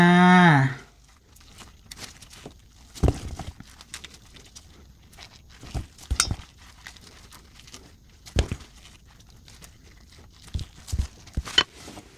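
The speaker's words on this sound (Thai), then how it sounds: "หั่นอย่างนี้เลยชิ้นพอดีพอดีคำค่ะ" Sharp, separate knife cuts through bananas on a board, spaced irregularly, with soft scraping between them; a short burst of Thai speech opens the passage.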